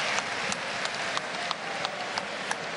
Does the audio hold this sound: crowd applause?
yes